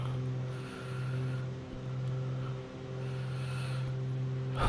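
An aircraft engine running at high RPM as flaps extend during an approach over mountains in the Philippines, a steady droning roar with slight swells in loudness and no speech.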